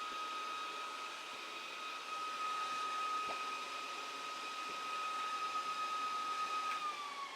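A VEVOR 2-cylinder 4500 psi PCP air compressor pumps steadily, a constant whining mechanical drone with a sustained tonal hum, faint and unbroken for several seconds.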